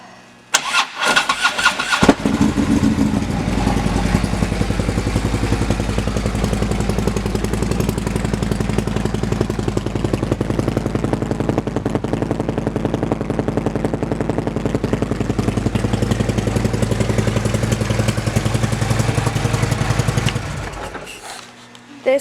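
A 2015 Harley-Davidson CVO Limited with a Vance & Hines exhaust starts up, then idles with a loud, steady deep rumble close to the microphone for about twenty seconds before cutting off.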